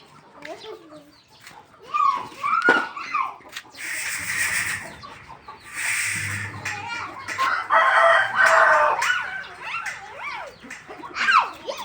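Clucking and a rooster's crow rise out of a busy mix, with people's voices in and around the calls.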